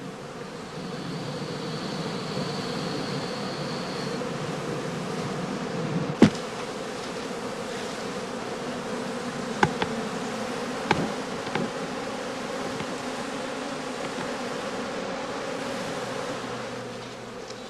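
Honey bees drone continuously around heather skeps in an apiary, a dense, even buzz from many insects close by, broken by a few sharp knocks and clicks.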